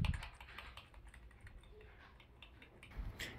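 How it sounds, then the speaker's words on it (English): A single key on a computer keyboard is pressed over and over while a PC starts up, giving faint, quick clicks in an uneven run against a quiet room. "press the delete on the keyboard continuously"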